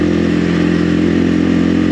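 Steady, loud engine drone of an XPro Templar 250 dirt bike cruising on a highway near top speed, a constant buzzing hum with wind rush and no letup.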